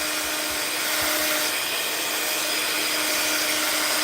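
A heat tool blows steadily over a stamped craft card to dry it, a continuous loud whirring hiss with a constant hum throughout.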